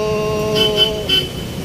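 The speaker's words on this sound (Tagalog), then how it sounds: "Busina ka ng busina eh." Several short car horn toots over steady Manila street traffic and engine rumble, heard fairly close from a bicycle in the Philippines.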